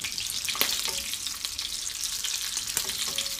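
Köfte meatballs frying in butter, a steady bright sizzle running throughout with a few light scrapes as they are stirred in the pan, close and continuous, no voices.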